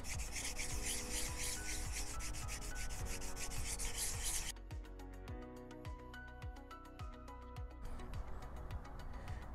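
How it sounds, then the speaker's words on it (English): A stone is hand sanded with 180 grit sandpaper in steady back-and-forth strokes, making continuous close gritty rubbing that thins partway through and then resumes, with no talk. "I normally just go back and forth using the sandpaper"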